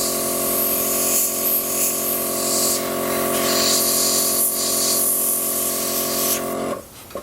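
Airbrush spraying chrome silver paint, a close steady hiss with slight surges and dips that cuts off abruptly near the end, with a faint background hum.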